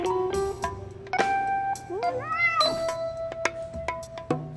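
Cat meowing from the video game Love and Deepspace, several short close meows and a rising drawn-out call scattered over soft background music with chime-like tones.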